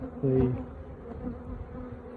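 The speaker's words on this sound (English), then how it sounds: "the angry bees that I was requeening" Angry honey bees being requeened at an apiary buzz close by in a dense, droning swarm, with one sharp louder buzz near the start and a steady hum after.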